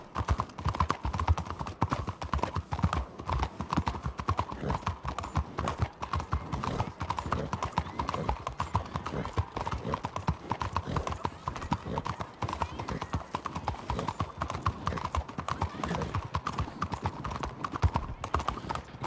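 Video-game horse hooves clip-clop in a fast, steady rhythm that runs throughout, moderately loud, with occasional voices talking over the galloping.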